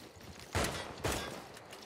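Artillery attack in Civilization VI: two sharp, broad blasts about half a second apart over a faint background, each fading quickly.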